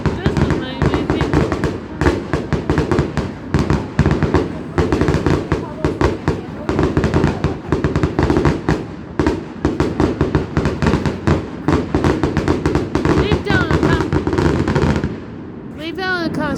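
Family fireworks set off outdoors produce rapid, dense crackling and popping bursts, almost continuous and loud throughout, with faint voices beneath.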